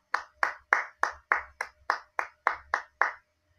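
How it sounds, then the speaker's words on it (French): About ten slow, evenly spaced hand claps sound crisp and close in a quiet room, one at a time with short decays, as a gathering applauds someone on cue. No voices are heard. "on l'applaudit"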